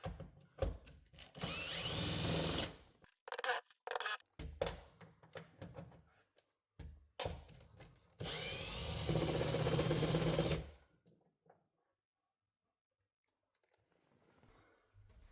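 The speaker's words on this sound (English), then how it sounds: "We need to remove the 4 bolts which are holding the hatch spoiler, and this is done with a 10mm socket." Bolts holding an Audi RS6 hatch spoiler are loosened with a 10mm socket on a ratchet, giving two long loud bursts of close mechanical whirring and clicking with scattered knocks between, then fading to near silence.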